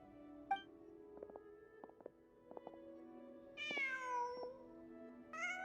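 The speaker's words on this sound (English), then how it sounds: "Just a cat." A cat meows in the video game Genshin Impact, two rising then falling cries near the end of the clip. Soft tonal game music and a few light plucked notes play underneath, and no one speaks.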